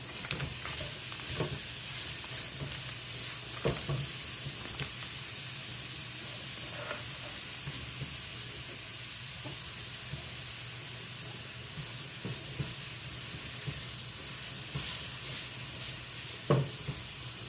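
Grated coconut cooks in melted real butter in a pan, giving a steady close sizzle and hiss with occasional soft scraping stirs and small pops throughout, and no one speaks.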